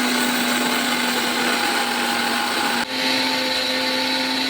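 Mixer grinder whirring steadily as it grinds roasted spices into homemade masala powder, loud and continuous with a brief dip near the end before the motor resumes.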